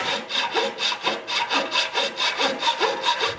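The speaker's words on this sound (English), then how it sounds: "We just kind of go in and saw back and forth." A dovetail saw cuts through wooden plugs in quick, even back-and-forth strokes, about three per second, close and rasping, with no voices.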